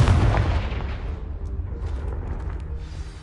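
A blasting spell fired in Hogwarts Legacy sets off a loud, close explosion: a heavy boom with a low rumble that fades slowly over about three seconds, with no talk over it.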